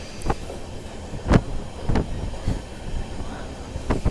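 The 16206 Mysuru–Talguppa passenger train runs through countryside, a continuous rumble punctuated by sharp rhythmic wheel clacks over rail joints, heard from on board.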